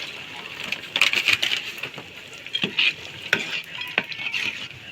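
Cashews fry in hot oil for a spicy Punjabi tikhari and are stirred, making a bright crackling sizzle with bursts of rapid spatter and a few clinks of a spoon, close, with no clear talk.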